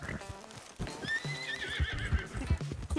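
A horse neighs in the Western game Red Dead Redemption, a loud rising whinny followed by thudding hoofbeats close by.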